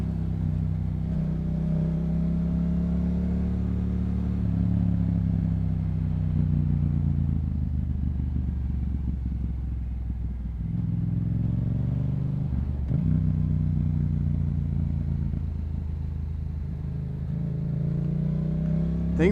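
A Yamaha MT-07 motorcycle engine drones steadily while riding twisty turns, rising and falling with throttle changes and brief dips between corners, loud and close throughout.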